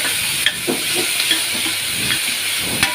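Green chillies, curry leaves and coriander sizzle steadily in hot oil in a kadai, a continuous bright frying hiss with occasional stirring clatters close by.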